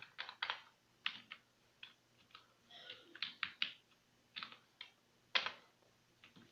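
Fingers tap a computer keyboard, including a Ctrl+S save, as a close, quiet series of irregular clicky keystrokes in short bursts with brief pauses between them.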